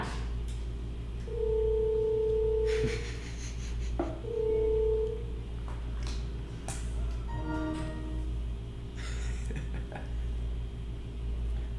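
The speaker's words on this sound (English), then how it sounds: "Getting a phone call" Phone ringing with an incoming FaceTime audio call: two sustained electronic ring tones a couple of seconds apart, then a rippling tone sequence, over steady background hum and faint room noise.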